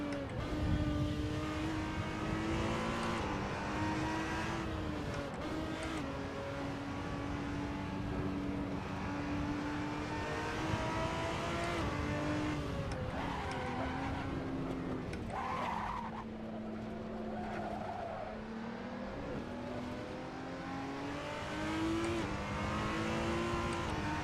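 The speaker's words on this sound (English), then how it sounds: "So this is also a big, like, 6-litre V12." A big 6-litre V12 race car drones steadily at sustained revs in Assetto Corsa on the Nürburgring Nordschleife at night, the engine note rising and falling with gear changes, fairly quiet and without voices.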